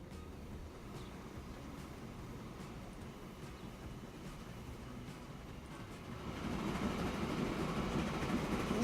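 Steel freight train in the Transport Fever game, a steady low rumble of rolling wagons that swells louder near the end, with no voices.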